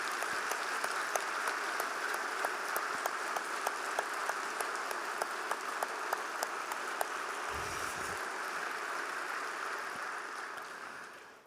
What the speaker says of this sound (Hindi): लेकिन उसके पहले सभी एक बार जोरदार तालियां बजाएंगे जरा।